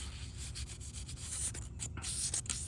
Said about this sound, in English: So I used a 400 grit sandpaper and tried to sand it